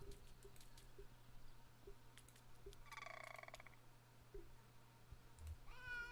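Cat meows in the video game Kentucky Route Zero, a few short calls standing out over a steady ambient hum, with a brighter cry near the end.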